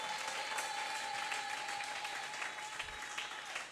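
A church congregation claps in a brief burst of applause, dense and fairly distant, tapering slightly toward the end.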